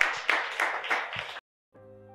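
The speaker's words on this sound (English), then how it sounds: "let's give Phoenix Force a big round of applause for an awesome night" Audience applause for the Phoenix Force robotics team at an event, a burst of dense clapping lasting over a second before cutting off abruptly, followed by a short tonal sting.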